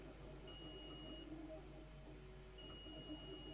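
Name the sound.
meter beeping when pedal pressed on model bus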